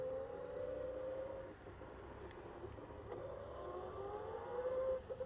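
A thin, steady electric whine from a Victory Empulse TT electric motorcycle in fourth gear, rising and falling slightly in pitch, moderately loud over low rumbling road noise, with no one speaking.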